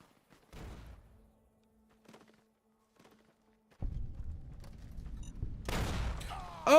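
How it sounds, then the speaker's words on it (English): Gunfire in the Fallout New Vegas video game: a few scattered muffled thumps, then a denser burst of shots near the end, heard alone. "Is that shooting?"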